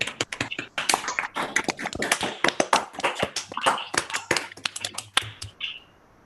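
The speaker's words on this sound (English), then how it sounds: "If anyone can give you a round of applause." Audience applause at an astronomy conference talk on quasars during reionisation: dense, steady clapping from many hands for about five seconds, then fading out.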